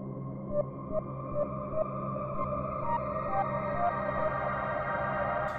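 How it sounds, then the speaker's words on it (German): Synthesizer notes with a sharp attack sounding through a shimmer reverb, repeating roughly every half second over a sustained bright, washy pad tail; steady, fairly loud, with no voice. "dass du das Anschlagsgeräusch dieses Grund-Synthesizers noch sehr gut hören kannst"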